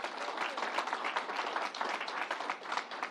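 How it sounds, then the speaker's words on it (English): Applause rises from a gathered audience at a New York COVID-19 vaccine announcement, sustained, evenly paced clapping that carries on without speech over it. "Let's give Fanny a round of applause."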